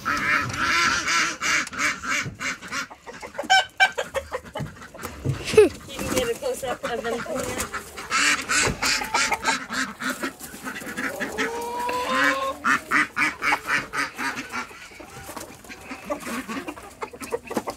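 A group of ducks quacks repeatedly in close, busy bursts alongside other farm birds outdoors, while people talk over and between the calls.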